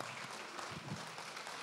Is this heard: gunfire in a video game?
no